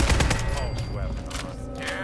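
Gunfire in the video game Fallout 4 sounds as a loud, dense volley of shots and booms, with a voice talking over part of it.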